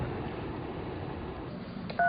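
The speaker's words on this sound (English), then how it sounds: "It's ringing. Is that a cell phone?" A telephone dials and rings: a long muffled stretch of line noise ends with a clear electronic tone near the end, heard close with no talk.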